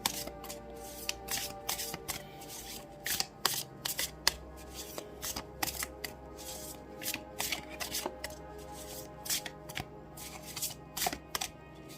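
Tarot cards being shuffled for a reading, a quick series of crisp riffling and slapping bursts close by, irregular in rhythm, with faint background hum and no talking.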